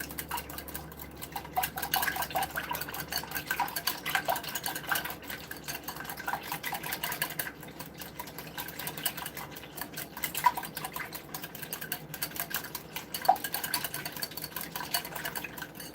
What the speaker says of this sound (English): I'm going to beat up my egg mixture just a little bit more to fluff it back up